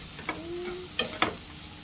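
Food sizzles quietly in a pan with garam masala during home cooking, a soft frying hiss broken by a few sharp clicks and taps of stirring.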